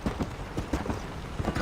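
Horse hooves clopping in a steady galloping rhythm across the ground in the Red Dead Redemption video game, close and moderately loud, with no talk over it.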